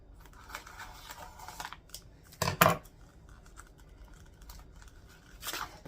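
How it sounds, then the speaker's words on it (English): A sealed plastic vacuum sealer bag snipped open, one sharp cutting crinkle mid-clip and another near the end, close over faint rustling handling noise. "I'm going to cut it off."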